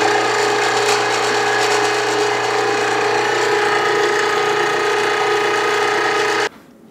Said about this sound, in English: pass it through my grinder just to grind up all of the pork that's inside the auger right there.